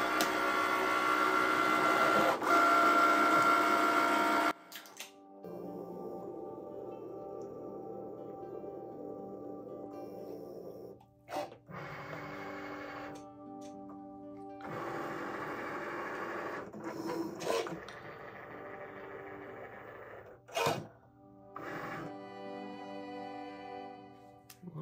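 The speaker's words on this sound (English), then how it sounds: "That's just scoring that top line for the flap to fold over." A Cricut machine with a scoring wheel scores a line on copy paper for an envelope flap: a steady motorized whir and buzz that shifts pitch as the carriage moves, broken by brief pauses and clunks.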